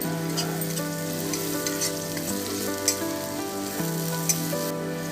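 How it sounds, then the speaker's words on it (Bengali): Two medium-sized onions, chopped, frying in a pan for a crab and potato curry: a soft, continuous sizzle, close and steady, with no one talking. "পেঁয়াজটাকেও ভালো করে ব্রাউন কালার আসা অবধি ভেজে নিতে হবে।"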